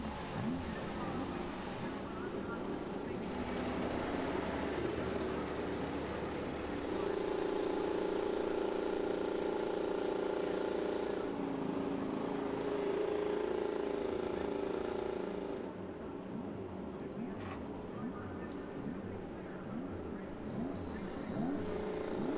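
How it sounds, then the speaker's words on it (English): IndyCar race car engines fire up and rev together at the Mid-Ohio Sports Car Course, a continuous loud roar from a field of cars with rising and falling engine pitch and crowd noise throughout. "Drivers, start your engines!"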